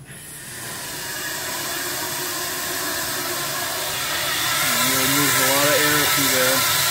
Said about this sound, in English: I'll turn on the blower.